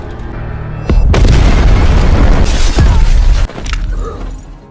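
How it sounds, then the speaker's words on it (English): A bomb detonates and blows up a bunker in a movie scene, a loud, deep booming blast with rumbling debris that cuts off abruptly, then a fainter lingering rumble. "Just as Michael corners the dying Anna, Moody detonates the bomb, which blows the entire bunker, killing himself and Edward in the process."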